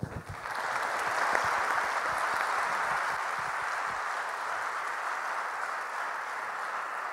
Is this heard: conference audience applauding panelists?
yes